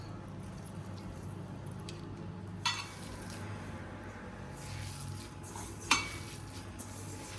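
Masala vada batter of onion, coriander, salt, lemon, ginger and garlic being mixed by hand in a bowl, soft quiet squishing under low background noise, with two sharp clinks of a utensil or dish.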